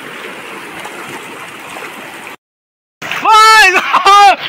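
A cold outdoor stream where people are bathing gives a steady rush of flowing water, then a brief silence, after which a loud voice shouts nearby over the water.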